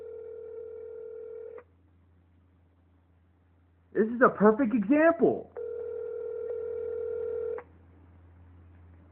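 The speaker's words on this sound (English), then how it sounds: "It's 1 minute ringing to 911." Ringback tone on a call to 911, two long steady telephone rings separated by a pause, close and clear, with someone speaking briefly between them.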